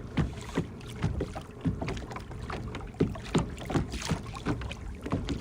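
A kayak pedal drive churns through weedy lake water with a rhythmic swish and splash at each pedal stroke, soft and close, under light wind noise.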